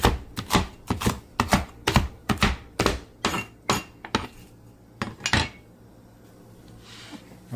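A knife hacks through country chicken on a board in about a dozen sharp, loud, close thunks in a quick, uneven rhythm, then the blows thin out and stop.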